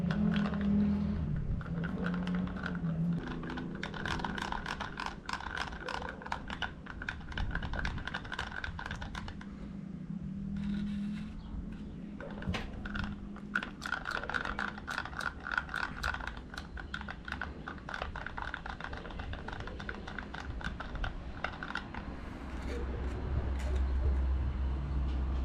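Epoxy resin being stirred by hand for a carbon fiber part on an Alfa Romeo 159, heard as steady scraping and clicking taps of a stick against a cup, close and continuous with brief pauses and no talking.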